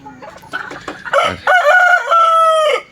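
A red rooster at a hill market clucks a few times, then crows loud and close in one long, drawn-out call.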